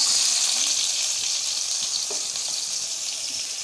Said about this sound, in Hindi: इसमें प्याज डाल लेंगे थोड़ा सा,